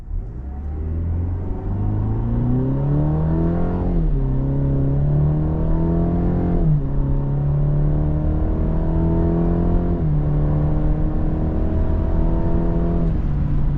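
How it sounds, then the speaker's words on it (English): A 2023 Cadillac CT5 Luxury AWD with a broken-in 2-liter turbo engine accelerates hard in manual mode. A loud, steady engine drone climbs in pitch, then drops sharply at three paddle upshifts before rising again, with no talking. "We are going to go ahead and stick this in manual, and we're going to shift this with the paddles."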